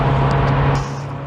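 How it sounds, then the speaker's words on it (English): A loud, close engine roar with a low droning hum as a big lorry goes by on the road, easing off slightly toward the end. "Past a big lorry."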